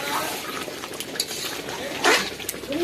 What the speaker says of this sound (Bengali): এই মাংস এখন কষাচ্ছি।